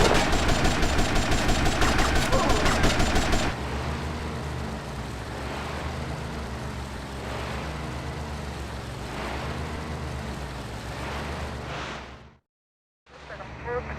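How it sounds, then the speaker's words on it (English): Gunfire in GTA Vice City, a dense rapid automatic burst up front, then sustained loud game action with repeated shots and engine-like rumble, ending in a brief silence. "Good shooting, my friend."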